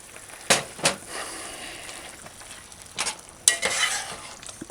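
Onions and curry ingredients fry in a pot for a vegetarian curry, a soft background sizzle broken by a few sharp scrapes and stirs of a utensil against the pot.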